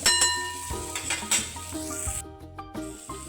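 Bottle gourd tossed into a pan of onion and tomato for red pumpkin puli munchi, with close stirring scrapes, light sizzling and clinks of a utensil against the pan throughout.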